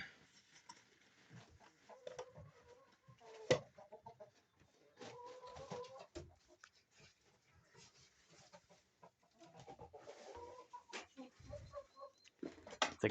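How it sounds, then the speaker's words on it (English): A hen on a farm makes low growling clucks and murmurs in scattered bursts, close but quiet, among faint rustling and shuffling noises, with no one talking. "The growling chicken."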